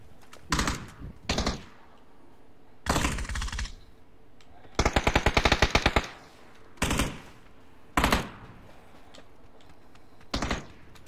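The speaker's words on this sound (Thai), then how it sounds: "ปาระเบิดล่อให้นะแป๊บนึงนะมันเป็นระเบิดเสียงปืนอ่ะ" Decoy grenade in PUBG gameplay firing fake gunfire: a series of separate loud bursts of rapid machine-gun-like shots, spaced irregularly across the clip with quiet gaps between them and no talk.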